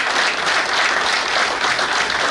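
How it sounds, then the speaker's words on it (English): Steady, dense applause from an audience at a naval war college graduation ceremony, honoring Commodore C.U. Yahya, filling a short stretch without any voices. "Let's give him a round of applause."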